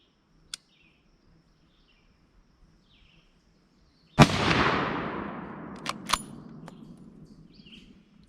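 A single loud rifle shot from a Ruger M77 Alaskan cracks out at a target outdoors, its boom rolling off in a long echoing decay, followed by a few small metallic clicks; an earlier faint tick precedes it.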